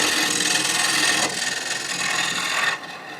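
A gouge cuts across the bottom of a spinning Bradford pear lid blank on a woodturning lathe, a loud close shearing hiss that drops in level partway through and tapers off at the end.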